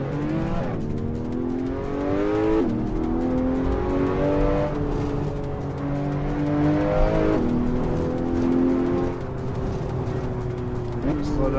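Car engine in the Assetto Corsa racing game, revving and shifting through gears with rising and falling pitch, loud and continuous, with people talking over it.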